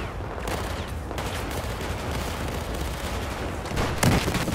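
Continuous rattling bursts of gunfire in Battlefield 4, fairly distant and dense, with a sharper shot standing out near the end.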